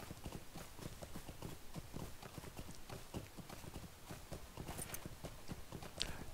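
Horse hooves clip-clopping in a steady rhythmic gait while riding through Middle-earth in the online game Lord of the Rings Online, quiet and continuous, with a brief faint extra sound near the end.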